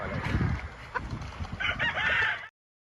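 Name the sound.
gamefowl chickens crowing and clucking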